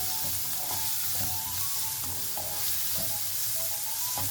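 Ginger and garlic sautéing with salt in a pan for palak egg curry, a steady close sizzle with repeated scraping stirs of a spoon throughout, no voices.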